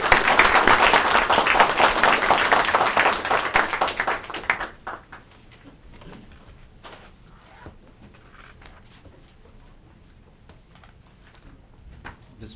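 Audience applause at a policy event on Pakistan's energy needs, with loud, dense clapping from a crowd for about four and a half seconds before it fades out into a quiet room with faint shuffling and footsteps.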